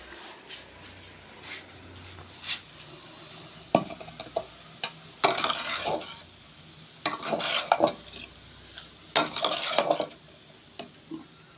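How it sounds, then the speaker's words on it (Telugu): A spatula stirs potato fry in a pan, with bursts of scraping and clinking against the metal, spaced irregularly over a faint background sizzle and no speech. "2-3 సార్లు అయితే కొంచెం కలిపేసుకుందాం."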